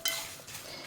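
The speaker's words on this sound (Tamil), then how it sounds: "கருவேப்பிலை, இது எல்லாத்தையும் நல்லா இன்னும் கொஞ்சம் செவக்க வறுத்துன்ட்டு" Dried red chillies and curry leaves roasting in a pan while being stirred, heard as a brief scrape and clink of a spoon against the pan with a faint dry rustle.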